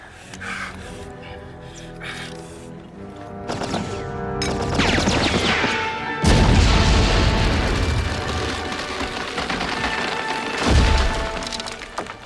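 A grenade goes off during a World War I trench battle: heavy booming blasts with splintering debris land amid a dense, music-laden battle soundscape, with one big burst midway and another near the end.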